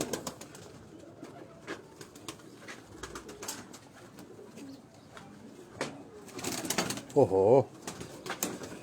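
Pigeons at a fancier's loft in Dharampura, Lahore coo softly in the background while people talk nearby, with a louder burst of warbling cooing close by near the end.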